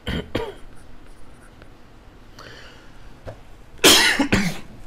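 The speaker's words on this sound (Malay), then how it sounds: "Batuk lah cikgu ni" A teacher coughs during a biology lesson: a pair of sharp coughs at the start, a fainter one midway, then a loud burst of two or three coughs near the end. The coughs are close and clear against a quiet room.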